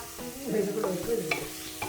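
Ginger, garlic and chili paste sizzles in a hot pan while a spoon scrapes and stirs it, with short bursts of frying noise close by.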